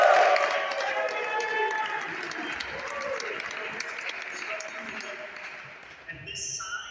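A large crowd applauds in a dense, sustained wash of clapping that slowly fades, with a few cheers mixed in.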